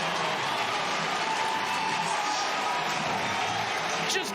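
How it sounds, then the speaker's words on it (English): A college lacrosse crowd at a Notre Dame versus Virginia men's game cheers and applauds after a goal, a sustained dense roar filling the stadium. A commentator talks over it. "Crowds on their feet. His teammates letting him hear it."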